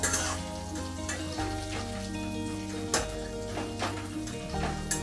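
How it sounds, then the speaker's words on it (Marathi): Boiled peanuts and potatoes sautéing in a pan for kande pohe, giving a steady close sizzle with a few scraping stirs and a low background hum. "आता ह्याच्यामध्ये मी शिजवून घेतलेले शेंगदाणे आणि बटाटे टाकते आणि एकदा परत ह्याच्यामधून परतून घेते"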